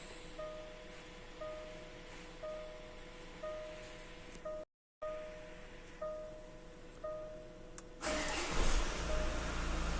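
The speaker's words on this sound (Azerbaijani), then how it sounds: "Maşını işə saldım." A Jaguar F-Pace diesel engine cranks and starts in a series of short repeated pulses with a brief cutout, then settles into a louder steady rumble near the end, with no talk.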